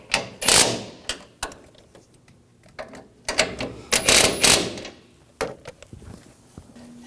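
A ratchet snugs down nuts on a GMC Sierra shock and spring assembly: close bursts of rapid clicking with pauses in between, plus a few metallic knocks.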